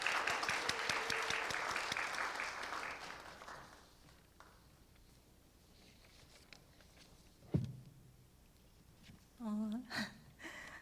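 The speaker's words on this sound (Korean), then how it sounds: "박수로 환영하겠습니다." Church congregation applauding to welcome a speaker, a dense burst of clapping in the first few seconds that fades away, followed by quiet room noise, a thump and faint sounds near the end.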